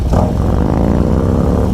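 A 2021 Harley-Davidson CVO Road Glide with a Stage 2 aftermarket exhaust revs loudly and close, a deep throaty exhaust note that climbs briefly and then holds a rumbling drone.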